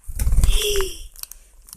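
A pigeon perched on a camera coos close up, a low soft warble, with a faint flutter of wings and light scratching around it.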